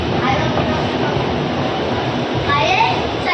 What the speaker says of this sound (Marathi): आता चाललो मेट्रोमध्ये